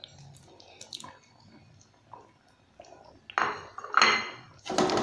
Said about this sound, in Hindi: मुसलसल चम्मच चलाते हुए पकाएंगे और उस वक्त तक पकाएंगे जब तक ये मसाला घी ना छोड़ दे।